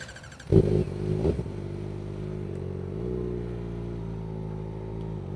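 A Kawasaki Ninja ZX-4RR motorcycle revs up in a sharp burst, then holds a steady, fairly loud, high engine drone that climbs slightly partway through, heard close with no talking.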